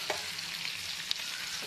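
Chilli prawns fry in a pan while being stirred, a brief close hiss of frying with a couple of light scrapes.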